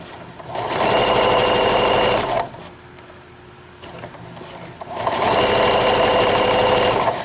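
A sewing machine stitches through a fabric placemat in two loud, steady bursts of rapid mechanical whirring, separated by a quieter pause with a few small clicks and handling noises.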